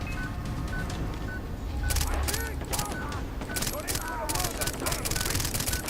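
Rapid video game gunfire crackles in repeated bursts through a busy, noisy mix, with someone talking over the shots.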